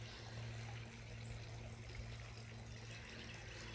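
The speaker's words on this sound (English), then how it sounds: "I'm setting up a sprinkler to help me water pots that I've got hidden back there" A garden sprinkler waters hidden pots during a July garden walk, giving a steady, even hiss of spraying water that runs continuously and fairly faint, with no talking.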